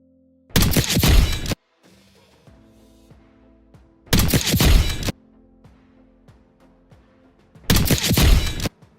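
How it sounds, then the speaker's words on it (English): A Call of Duty headshot sound effect in a video game, three loud, sharp impact bursts spaced a few seconds apart, each followed by a quiet ringing, tonal tail. "hearing this sound effect once your bullet makes contact with their melon"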